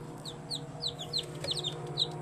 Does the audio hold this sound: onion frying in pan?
no